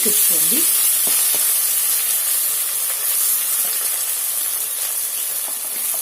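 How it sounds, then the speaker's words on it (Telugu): Cumin seeds and green chillies frying in hot oil, giving a dense, continuous crackling sizzle with a loud steamy hiss and a few brief clinks early on. "ఇది జీలకర్ర వేడెక్కుతుంది అది వేగుతుంది"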